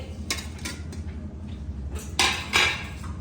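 Dishes are picked up for a meal, with several close clattering knocks of plates and utensils over a low background hum, the loudest pair of clanks near the end, and no one speaking.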